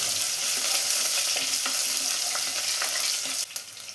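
Peeled garlic and crushed ginger sizzle in hot oil with popped mustard seeds while making papaya pickle, a steady bright frying hiss with small crackles and a slight drop in level near the end.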